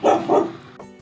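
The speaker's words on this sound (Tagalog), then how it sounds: "may aso." A dog barks twice in quick succession, close and loud, followed by a softer yip.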